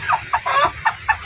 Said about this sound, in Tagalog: tinuturuan din kasi nilang kumain yung kanilang mga sisiw